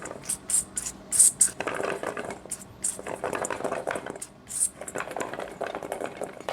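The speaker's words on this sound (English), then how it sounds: "we're simply gonna add some cooking spray. Just a light coating" Several short hissing bursts of spray, a few seconds apart, mixed with light clattering and rustling as food is handled nearby.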